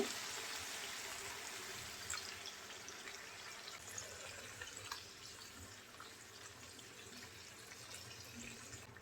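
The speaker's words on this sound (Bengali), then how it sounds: "পানি দিয়ে দেব" Water is poured into a pot of jackfruit curry cooked with spices, a quiet, steady rushing splash that slowly tapers off, with no voices.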